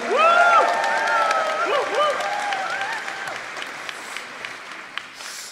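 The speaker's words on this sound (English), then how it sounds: "Keep your applause going for our next poet to the stage," Poetry slam audience at the Roundhouse applauding and cheering as the next poet is called up, loud dense clapping at first that gradually thins and fades, with whoops and brief voices over the crowd.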